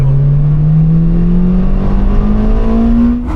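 A Honda Civic Type R EP3's K20 engine revs hard with a steady climbing drone, loud and close, the pitch rising smoothly before easing off at the end.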